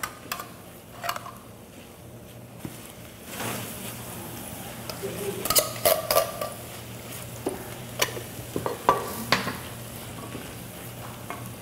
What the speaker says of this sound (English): Give it a good stir, good mix.